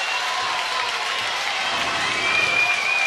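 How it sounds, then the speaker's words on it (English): A crowd at a Little League World Series baseball game, New Jersey versus Oregon, roars and cheers in a sustained broad wash of noise with scattered clapping, swelling slightly toward the end. "Crowd roars."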